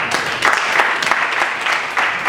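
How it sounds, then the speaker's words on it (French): An audience at a civic meeting on youth engagement and women's election participation claps in a brief, steady burst of applause, fairly loud and close. "Ça s'applaudit."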